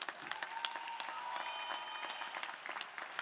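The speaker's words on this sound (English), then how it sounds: "please give yourselves a round of applause" Audience applause at a high school graduation ceremony, a steady wash of many hands clapping with scattered louder claps, heard at moderate distance and fairly quiet, with faint voices mixed in.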